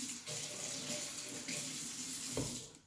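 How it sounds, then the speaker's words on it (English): A hand rinsed under a running kitchen tap, with a steady splashing stream of water hitting the sink for a few seconds before it cuts off. "just rinse my hand off real fast"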